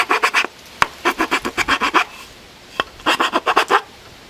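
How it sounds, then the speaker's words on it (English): A 4-in-1 hand sander smooths down a custom stop block for an Evolution Rage 4 chop saw in quick rhythmic rasping strokes, grouped in short bursts with brief pauses, close and fairly loud, with no speech. "we're going to be sanding this off using our 4-in-1 sander"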